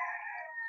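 A dark-legged Gilmore cross rooster gives a short, clear, tonal call, close and moderately loud, lasting under a second.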